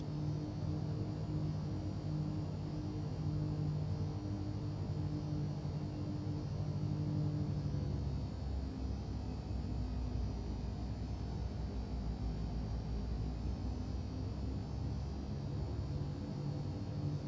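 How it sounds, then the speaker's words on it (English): A PA31 Navajo twin-engine aircraft taxis for departure in the X-Plane 11 flight simulator, giving off a steady, low engine drone and rumble that holds evenly throughout with no talking over it. "Taxiing out to runway 14 for departure."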